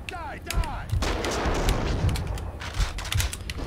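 Gunfire in the video game Max Payne 2, with irregular sharp shots and heavier booming reports spread across a few seconds over a dense, noisy action background.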